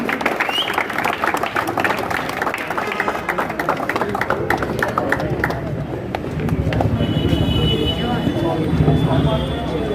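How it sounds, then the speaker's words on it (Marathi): Crowd applause at a box cricket tournament prize distribution, a loud continuous burst of clapping that carries on for ten seconds and grows denser toward the end. "जरा जोरदार टाळ्या वाजवा"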